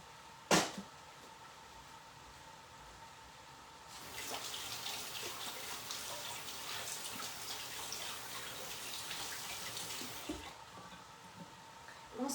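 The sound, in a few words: water running from a tap while washing hands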